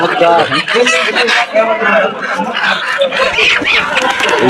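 Local country chickens cluck and squawk at a busy village poultry market, with a rooster crowing now and then, all under steady crowd chatter and nearby voices.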